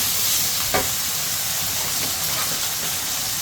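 Paneer bhurji is mixed in a hot frying pan, with a loud, steady sizzle and hiss and a brief scrape of the spatula near the start.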